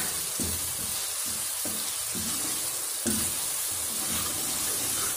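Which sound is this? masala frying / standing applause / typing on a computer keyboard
masala frying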